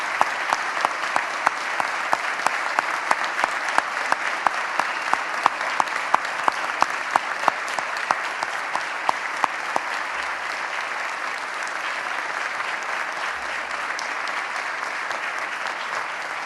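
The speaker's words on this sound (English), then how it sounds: "Let's give them all a round of applause." Audience at a governor's budget address applauding domestic violence advocates, a steady wave of many hands clapping throughout a large hall, thinning toward the end.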